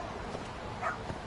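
A dog in the video game Lost Judgment gives a short, soft bark and yip, fairly close and moderate in volume, with no talk over it.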